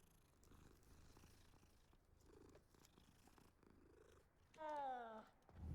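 Cat purring in the Hogwarts Legacy video game, a soft steady purr that runs faintly through the clip, with a brief meow-like call near the end.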